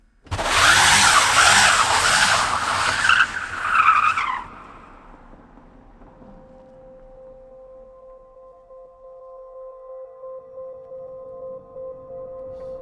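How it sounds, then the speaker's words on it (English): Tires of a classic Datsun 240Z converted to electric power skid loudly for about four seconds in a harsh, squealing rush, then cut off. A low, steady motor hum remains. "So that's proof that it'll skid if you wanted to"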